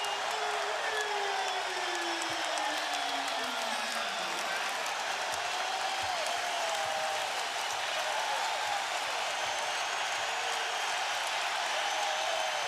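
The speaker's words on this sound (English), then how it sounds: "This crowd has absolutely erupted here in the third" A packed basketball arena crowd roars steadily throughout during an NBA Finals game between the Lakers and Celtics, a dense sustained cheer with whistles and shouts mixed in and a faint voice partly audible underneath.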